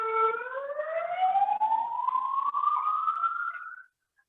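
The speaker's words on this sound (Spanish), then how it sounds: "La ambulancia." An ambulance siren passes by, its wailing tone rising steadily in pitch at a fairly loud, even level for about four seconds before cutting off abruptly.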